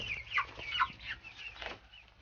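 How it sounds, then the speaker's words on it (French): Young Brahma chicks chirp in short, bright bursts from close by, with a few overlapping calls in an otherwise quiet pen. "J'ai mis ici les Brahma, les poussins que j'ai achetés là."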